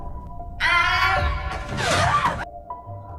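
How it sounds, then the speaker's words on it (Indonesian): A ghost nun in a horror film lets out a harsh, piercing scream that bursts in suddenly, surges in two strong waves over a low rumble, then cuts off abruptly. "tiba-tiba dia diganggu oleh sesosok arwah suster yang berteriak"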